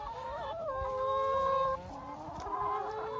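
Backyard chickens cluck steadily and close by, with rising and falling calls over a constant outdoor hiss and no talking.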